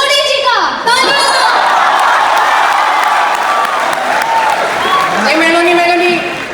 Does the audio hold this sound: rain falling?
no